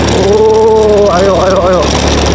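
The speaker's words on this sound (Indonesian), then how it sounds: "udah mulai full gas ini motor, tapi aman" A motorcycle revs hard at full throttle on a steep uphill road in Gunung Kidul, Indonesia, its engine loud and close with a wavering, rising whine.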